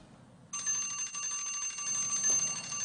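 A bell rings to end a timed question in a school quiz contest. It is a bright, sustained metallic ring that starts abruptly and keeps going, with no voices.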